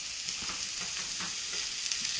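Diced mixed vegetables sizzle steadily in a hot pan for a breakfast farro stir fry, a continuous bright crackling hiss with faint stirring scrapes underneath, close and fairly quiet, with no voices.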